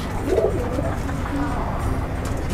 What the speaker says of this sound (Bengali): আর এদিকটাতে দেখেন সমস্ত কবুতর।